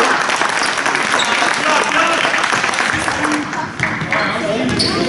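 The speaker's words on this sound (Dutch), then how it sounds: "Ik hoor klappen, man." Clapping from a group of people at a youth under-16 sports setting, steady and fairly loud, with voices talking and calling out over it.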